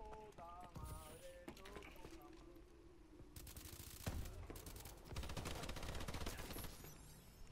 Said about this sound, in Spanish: Ya me están disparando por detrás